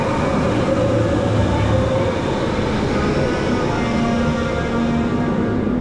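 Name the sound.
TRON roller coaster train passing, Magic Kingdom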